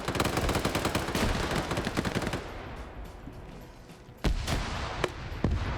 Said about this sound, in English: Grenades going back and forth here.